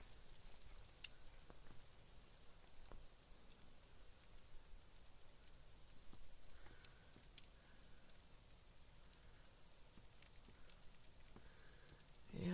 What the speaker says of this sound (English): Freezing rain.